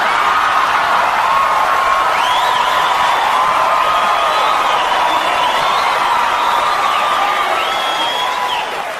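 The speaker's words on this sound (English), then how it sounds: "you guys are clapping and you're laughing because you know" A large stand-up comedy crowd at a Gabriel Iglesias show roars with sustained applause and laughter, steady loud clapping mixed with cheers and whoops, continuous throughout and easing slightly at the end.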